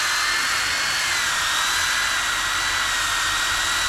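A Dewalt DWE6401DS power sander pressed hard into wood to grind away saw marks, giving a constant, dense high-pitched whir with a grinding hiss, loud and close with no pauses and no talking.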